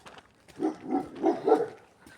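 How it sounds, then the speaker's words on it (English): Four loud, evenly spaced barks from a dog close by on a forest path during a golden-hour hike. "Doggy."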